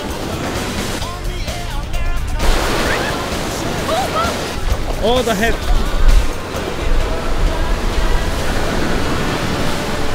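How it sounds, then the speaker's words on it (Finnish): Ocean surf on an African coast breaks and washes loudly in a continuous roar, while people talk and call out over the crashing waves. "Mun olisi pitänyt kuvaa teille vähän slomo-matskua näistä aalloista"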